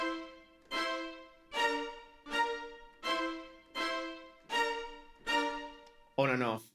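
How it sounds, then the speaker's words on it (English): High strings play short accented chords on every off beat in Zelda-style music, seven evenly spaced swelling stabs, followed by a brief wavering tone at the end. "The high strings are going to be carrying the harmony, and they are going to be making an accent every off beat."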